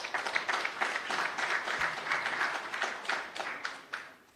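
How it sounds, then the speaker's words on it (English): A round of applause at a political meeting of opposition forces, steady dense clapping from a crowd throughout, moderately loud and continuous with small swells, no talking over it. "A round of applause for"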